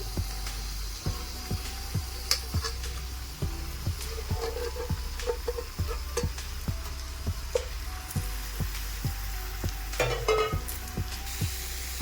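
Marinated chicken pieces, cut medium size, sizzle and fry in a pan for chicken bhuna masala, a steady close crackle broken by regular stirring clicks and a brief louder burst of spatter near the end.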